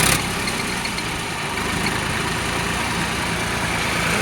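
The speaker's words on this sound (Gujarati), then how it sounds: "જો આ રેસ કરીને પણ બતાવું છું," A Sonalika 740 tractor engine runs close and loud, a steady low diesel rumble that holds at a constant level after a brief louder burst at the start, with no voices.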